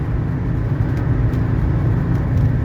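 A 1984 Mercedes 300SD cruises at a steady 80 mph, filling the cabin with a constant low, broadband road and engine rumble, evenly loud and close, with no talk.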